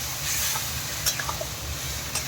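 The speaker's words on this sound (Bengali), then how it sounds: "মাংসটা ছেড়ে দিয়েছি, কষিয়ে নেবো ভালো করে।" Chicken pieces coated in yogurt and spices sizzle softly in a pan, with faint frying hiss and a few light clinks of stirring; no voices.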